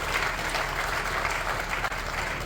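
Audience applause at a science, technology and startup event in Kathua, a steady dense clapping from a crowd, loud and continuous throughout.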